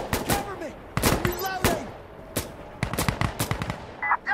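Gunfire in Insurgency: Sandstorm: sharp, close rifle shots crack out in irregular bursts, some single and some in quick clusters, with brief pauses between them and no speech over the shooting.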